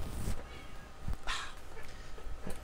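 A house cat meows indoors, giving a couple of short, moderately close calls that stand out over a quiet room with light background noise.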